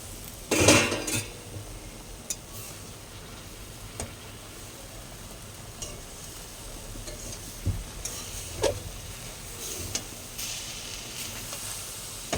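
A lid comes off a pan of pumpkin chorchori cooked with mustard paste and coconut, starting with a sharp metallic clatter, then quiet sizzling with occasional light pan knocks and clinks.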